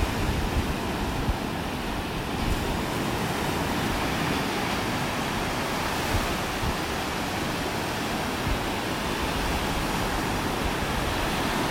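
Ocean waves wash onto a beach in North Naples, Florida, a steady loud broadband rush of surf and wind with no distinct breaks or voices throughout.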